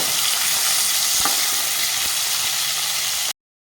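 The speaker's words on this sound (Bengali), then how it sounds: "পনিরটাকে আমি হালকা করে ভেজে তুলে নেব" Paneer pieces fry lightly in a pan with a close, steady sizzle and occasional stirring scrapes, cutting off abruptly near the end.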